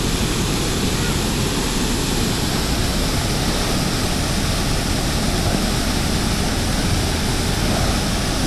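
Water rushes steadily over a weir beside a canal lock on the Wigan flight, a loud, continuous broadband roar with no breaks or voices.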